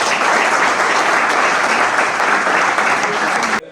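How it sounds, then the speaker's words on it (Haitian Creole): Audience applause at a school workshop visit by Arne Duncan, former US Education Secretary: a dense, steady wash of many hands clapping close by, sustained at full strength for several seconds before cutting off abruptly. "Donc, je vais demander nous pour applaudir."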